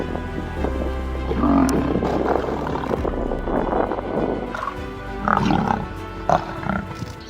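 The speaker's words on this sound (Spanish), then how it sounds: "Su macho responde, pero su rugido suena débil por el hambre." A hungry male lion roars in the wild, a deep, rough, drawn-out call that sounds weak, heard at mid-distance against outdoor ambience, with grunting bursts and no talk.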